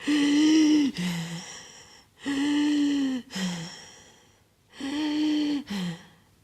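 A voice imitates heavy, laboured breathing: three loud, strained, voiced inhale-exhale cycles with short pauses between them.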